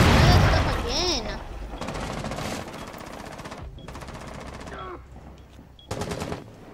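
Rapid gunfire bursts from a first-person shooter round in Rainbow Six Siege, loud and close, several sharp volleys separated by gaps, with game effects and a voice heard in between.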